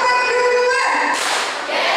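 Seminar audience at a student leadership event clapping together in rhythm: a short burst of crisp, broad claps that breaks in partway through after a sustained tonal sound, fairly close and loud.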